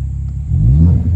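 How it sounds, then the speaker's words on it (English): Ford Focus ST with an MBRS exhaust and Roush intake revs up, its deep exhaust note swelling louder and rising midway through a short burst with no talking. "the nice exhaust note on this Focus ST"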